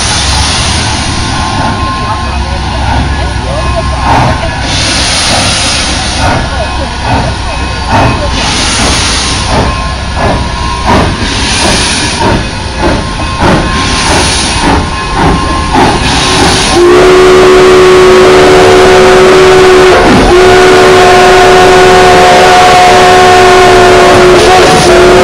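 A narrow gauge steam locomotive sounds its whistle loudly and close by, first in several repeated blasts over hissing steam and rumbling, then in a long sustained shriek that fills the rest of the time.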